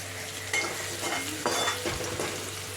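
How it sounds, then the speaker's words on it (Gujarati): Green onions sauté for pasta masala with a steady close sizzle and frying hiss, broken by a few soft stirring scrapes in the pan. "થોડીક લીલી ડુંગળી નાખી દીધી. થોડીક સતળાઈ જાય"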